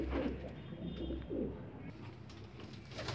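Pigeons coo softly in a few low, rounded bursts while feeding on a winter seed mix, with a steady low background murmur beneath.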